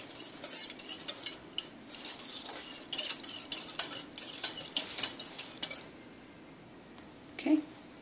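Milk mixture stirred in a crockpot for homemade yogurt, a utensil scraping and clinking against the pot in steady strokes up close for several seconds, then a quiet pause and one last faint knock.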